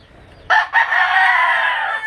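A Spangled Hatch gamefowl rooster lets out one loud, close crow that starts abruptly and holds steady for well over a second, opening with a short clucking break, with no one speaking.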